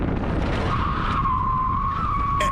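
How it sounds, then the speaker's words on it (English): A car skids after netting catches its rear wheel, a loud, sustained tire squeal over a dense roar of engine and road noise, steady throughout and close. "it causes the car to skid"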